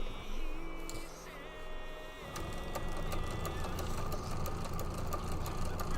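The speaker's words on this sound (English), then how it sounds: "I am just going to keep sewing along here." A sewing machine stitching a quilt project, a rapid mechanical whir with rhythmic clicking that starts after a brief lower hum and then runs steadily and close.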